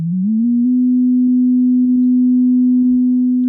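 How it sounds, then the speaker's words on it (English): A steady pure synthesizer sine wave, loud and unwavering, with a brief upward glide at the very start and faint clicks scattered underneath. "So now we just have a pure sine wave."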